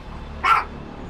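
A single short dog bark rings out at moderate loudness over a quiet background, brief and alone.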